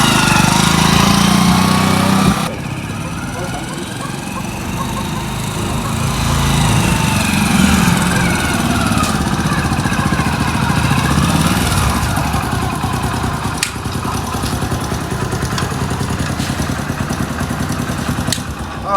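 A small engine runs steadily for the whole stretch, a rough buzzing drone that shifts slightly in pitch, close by and fairly loud.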